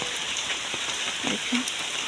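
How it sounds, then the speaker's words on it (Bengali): Heavy rain pours steadily in Bagerhat, Bangladesh, a dense continuous hiss of drops striking surfaces close by, with a few louder splashes near the end and no talking. "কীভাবে বৃষ্টি পড়তেছে"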